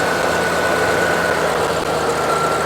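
Old tractor engine driving a PTO-powered blower, a loud, steady, dense roar of engine and rushing air throughout, close by with no talk.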